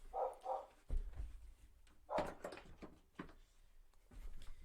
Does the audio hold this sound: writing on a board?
no